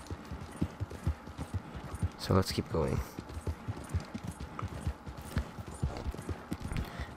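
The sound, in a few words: horse hooves galloping, from a video game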